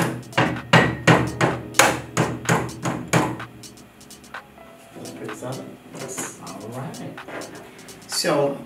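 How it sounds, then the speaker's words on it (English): A small mallet taps on the metal part of a Beseler 23C III-XL enlarger, about a dozen sharp, evenly spaced knocks that then give way to someone speaking and some quieter handling noises. "And you can use a small little hammer."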